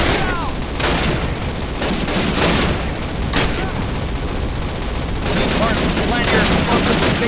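Rapid gunfire in Call of Duty 1's Operation Overlord mission, loud dense bursts of shots and impacts filling the whole stretch, with brief game voices mixed underneath.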